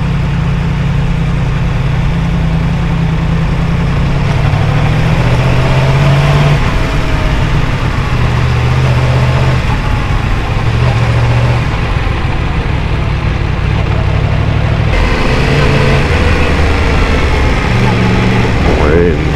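A motorcycle ridden through tight turns while the rider works the clutch, giving a continuous close engine drone whose pitch rises and falls, mixed with wind rush.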